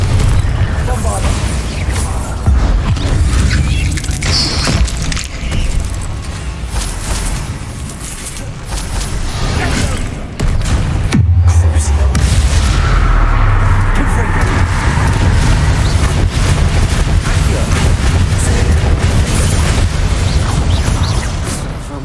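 Spell blasts from Confringo and Bombardo in Hogwarts Legacy boom and burst loudly, with deep thuds and crackling debris over busy game noise, and a voice speaks between the explosions.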